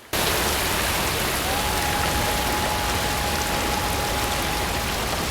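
A waterfall from the film A Quiet Place pours in a dense, constant broadband rush, loud and steady throughout, with a faint thin tone running underneath and no speech.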